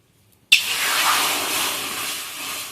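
Water pours into a pan of sugar for syrup, a sudden steady hissing rush that starts sharply and continues evenly, close and fairly loud, with no talk over it.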